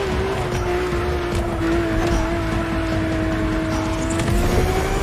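A Lamborghini Aventador races in The Crew Motorfest, its engine holding a loud, steady high-pitched drone that climbs slowly in pitch over several seconds, up close with a faint hint of tire noise and no talk.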